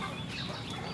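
Pet chickens cluck and chatter in a backyard, a dense, busy flock sound filling the whole moment, close and continuous with no talking.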